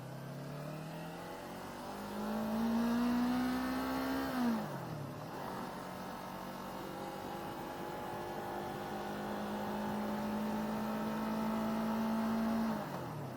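A 2019 Yamaha R3 sport motorcycle revs and shifts through gears on an easy morning ride, its engine note climbing, dropping sharply, then rising again steadily, loud and close over wind noise.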